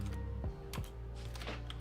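Rapid typing on a computer keyboard that has issues, a dense run of clicky keystrokes with a few louder key thumps, close and steady with no voice over it.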